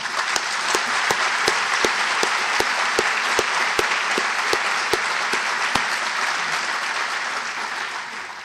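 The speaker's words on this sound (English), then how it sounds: "Please applause." An audience at an annual chamber of commerce awards ceremony applauds for several seconds, with sharp individual claps standing out from the broad sustained clapping, which slowly fades toward the end.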